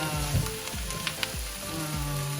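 Fish sauce (patis) hits a hot frying pan for ginataang sitaw at kalabasa, giving a steady close sizzle with several sharp bursts of crackle and spatter throughout.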